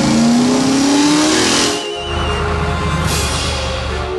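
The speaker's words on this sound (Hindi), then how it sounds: "अपनी जान बचाने के लिए पीले टो ट्रक घने और डरावने जंगल के बीच से अपनी पूरी रफ्तार से भागने को मजबूर है।" A cartoon yellow tow truck races at full speed through a dense, frightening forest, its engine roaring loud and continuous with a rising whine, then a brief dip before the steady motor noise resumes.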